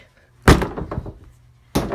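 A door slamming shut with a heavy thunk, then a short rattling latch sound and a second sharp impact close by.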